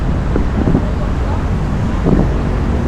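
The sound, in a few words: strong wind during night bike ride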